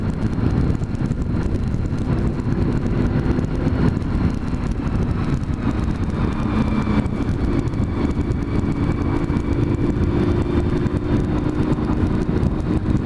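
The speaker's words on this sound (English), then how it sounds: "This is an inordinate amount of traffic." Heavy road traffic streams past in a steady, loud wash of engine and tyre noise with some wind buffeting, no voices, continuous for the whole stretch.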